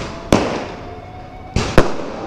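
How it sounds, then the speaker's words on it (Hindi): Diwali fireworks over Patna in 2021, three sharp loud bangs, one early and two close together near the end, over a steady crackling background din. "देखो तो पटना में कितनी ज़बरदस्त आतिशबाजी हो रही है"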